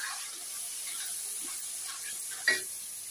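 Masala with salt and tomato fries in a pan for matar paneer, a faint steady sizzle close by with one brief louder clink or splash near the end, no talk.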